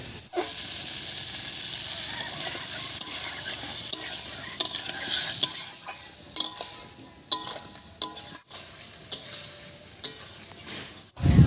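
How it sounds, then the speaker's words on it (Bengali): Fish curry masala being sautéed with ground spice paste water, with tomatoes, in a Bengali village kitchen: a steady sizzle under repeated stirring scrapes and occasional utensil clinks, close and continuous. "এবারে মশলা বাটার জল দিয়ে ভালো করে কষিয়ে নেব"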